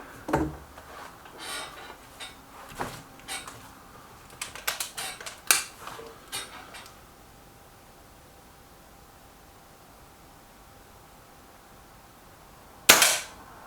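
A Reximex Myth air rifle fires several sharp, snapping shots, each with a brief crack of the pellet striking the target. The shots come in an uneven run, then there is a long quiet stretch and one loud final shot close by.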